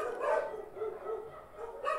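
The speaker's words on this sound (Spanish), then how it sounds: "perdón por los perros." Several dogs bark in a repeated series of harmonic woofs, moderately faint and somewhat distant, with no one talking over them.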